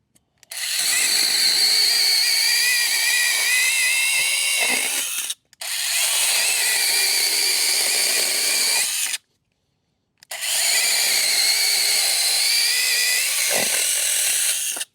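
WORX Nitro 20V brushless mini pruning chainsaw cutting wood, three long loud whining runs separated by short silences, the pitch wavering slightly as the chain bites into the log.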